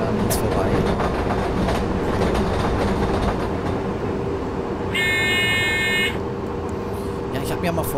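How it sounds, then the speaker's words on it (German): An IC 2273 intercity train rolls past in Train Simulator 2017, a steady loud rumble of rail noise with a buzzing electronic tone near the middle, and a voice talks over it throughout. "Hier mal ein IC 2273 fährt an uns vorbei."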